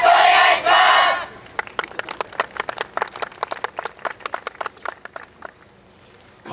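A crowd at a yosakoi dance festival claps along in a brisk, steady rhythm of sharp claps, following a loud burst of group shouting at the start.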